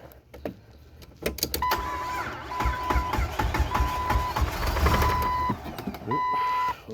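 A car motor bought for an engine swap runs roughly and unevenly after starting. The rumble is steady and close, and a repeated electronic warning beep sounds over it.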